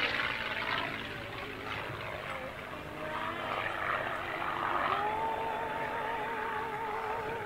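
A P-51 Mustang propeller fighter flies aerobatic maneuvers at an air show, its engine droning steadily overhead and rising and falling in pitch as it passes and turns, with faint crowd noise beneath.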